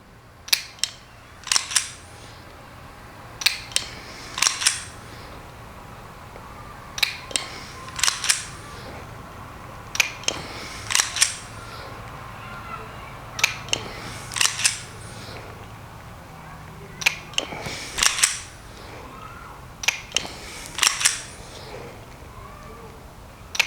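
A dry-fire laser training pistol: sharp clicks arrive in paired bursts about every three seconds, with each trigger click joined by the rack of the slide, all close and free of talk.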